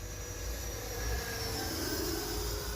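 An E-flite Viper 90mm electric ducted fan model jet flying, a continuous high whining rush that swells slightly midway and holds steady, heard from a distance outdoors.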